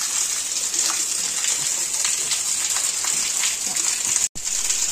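Floodwater rushes through a street and into a house in Cuttack during rain, a loud, constant hiss and gush with a brief break near the end.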